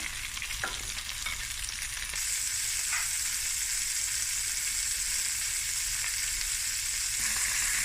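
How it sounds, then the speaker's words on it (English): Prawns brushed with Sriracha sauce fry in a hot pan, giving a loud, steady sizzle that runs unbroken for the whole stretch, with an occasional faint clink of the pan and no voices. "so now we're flipping the prawns and we're going to brush it now again with some Sriracha sauce"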